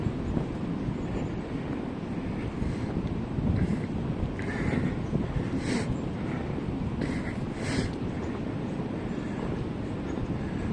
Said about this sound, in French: Donc le vent souffle à travers les arbres.